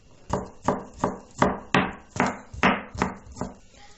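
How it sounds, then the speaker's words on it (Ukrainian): Rapid knife chops finely cutting garlic on a wooden board, about nine sharp even strokes in a steady rhythm, close and clear. "Дрібненько нарізаю чесник,"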